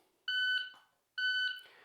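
A shooting shot timer sounds two short, bright electronic beeps about 0.9 seconds apart for a par time drill, clear and close against near silence.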